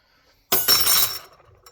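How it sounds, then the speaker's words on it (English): Snap ring popping off a hub inside a TH-400 automatic transmission, a sudden bright metallic clink and ringing scrape lasting under a second after silence, close up, followed by a faint small tap. "If I can get this snap ring off"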